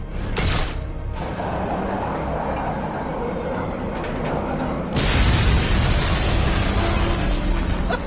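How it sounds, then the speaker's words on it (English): An explosion in a Batman video game erupts as a loud, sustained rumbling blast with debris, a sharp new surge hitting midway and roaring on to the end. "Warning, plant integrity critical. Explosion imminent."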